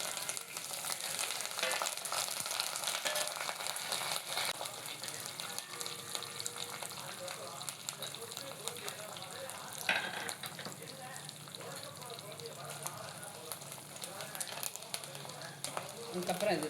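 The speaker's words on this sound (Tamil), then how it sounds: "இது நல்லா வந்து வாசனை வர அளவுக்கு ஃப்ரை பண்ணிவிட்டு அடுத்து மிளகா கருவேப்பிலை சேர்த்துக்கலாம்." Spices frying in a pan make a faint, continuous sizzle with occasional stirring and clinks, a voice talking softly over parts of it.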